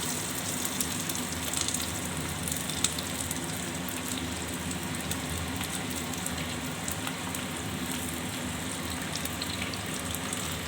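Small shallots fry in hot oil in a pan, a steady, moderately quiet crackling hiss like light rain that holds evenly throughout, with no talking.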